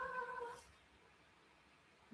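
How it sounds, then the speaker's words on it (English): A pet cat named Keisha lets out a single faint, drawn-out meow at the very start, then falls silent in a quiet room. "That's my cat."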